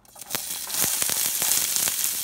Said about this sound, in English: Oh, it's sizzling already.